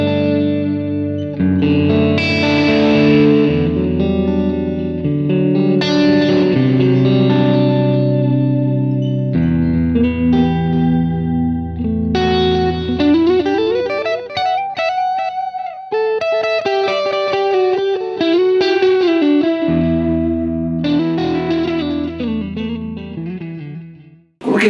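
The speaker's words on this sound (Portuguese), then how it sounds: "Coloquei um delay de fita para molhar um pouco do som." An electric guitar played through an overdrive pedal for a crunchy tone with tape delay, sounding loud and continuous as chords and melodic lines repeat with echoing tails for nearly twenty-five seconds, no talking.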